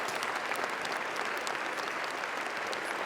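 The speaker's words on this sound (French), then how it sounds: "Les applaudissements de toute la salle pour saluer le réalisateur italien" Full-house audience applause at the Cannes Film Festival 2019 premiere steps for Italian director Marco Bellocchio, a steady, dense ovation filling the hall at even loudness throughout.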